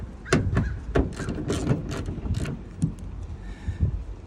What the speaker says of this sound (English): But just for content, I'm going to use a ratchet and a socket.